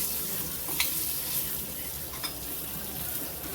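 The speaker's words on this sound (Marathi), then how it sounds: "छान आपल्याला खरपूस अशी भाजून घ्यायची आहे खालून दोन्ही साईडने" Colocasia leaf rolls (alu mutki) roast crisp in a pan, giving a constant close sizzle with a couple of faint clinks of stirring; no one speaks.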